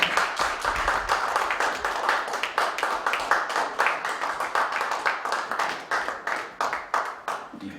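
A room full of people claps for an award recipient at a church general assembly, rhythmic hand claps coming in quick, even bursts that carry on steadily at moderate loudness.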